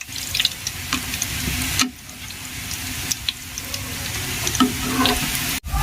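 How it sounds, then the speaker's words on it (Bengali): Steady sizzling and crackling of pitha (rice cakes) frying in hot oil in a pan over low flame, with small irregular pops over a constant hiss and no voices. "গ্যাসের ফ্লেমটা লো ফ্লেমে রেখেই পিঠাগুলোকে ভেজে নিতে হবে"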